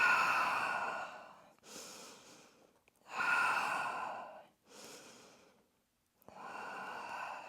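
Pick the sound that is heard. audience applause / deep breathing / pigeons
deep breathing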